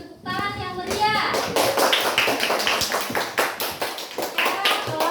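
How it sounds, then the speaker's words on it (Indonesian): Children in a classroom clap together after a teacher's call for applause, a fast, close burst of hand claps and taps lasting several seconds, with young voices rising over the clapping at the start. "Tepuk tangan yang meriah."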